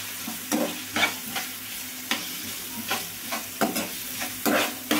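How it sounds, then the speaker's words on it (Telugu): Onions with curry leaves and a little salt fry in a pan for egg masala curry, a steady sizzle broken by repeated scraping stirs every second or so, close and fairly loud with no talk. "ఇట్లా కలుపుకుంటా వేయించుకోవాలండి"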